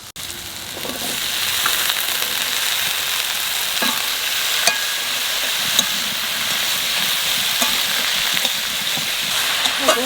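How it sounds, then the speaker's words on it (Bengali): Okra frying in spiced oil with turmeric and coriander powder, a steady loud sizzle and hiss running throughout, broken by occasional sharp clicks and scrapes of stirring. "ভেন্ডিটা একটু বাজিয়ে নিলাম"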